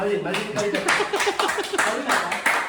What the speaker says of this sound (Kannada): ಕೊಡಿ ಜೋರು ಚಪ್ಪಾಳೆ ಮಾಡಲಿ